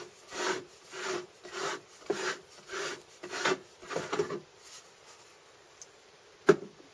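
A stone grain mill for grinding cereal gives a series of rhythmic rasping, rubbing bursts, about one every 0.7 seconds, that fade out after four seconds, leaving near silence broken by a single sharp click.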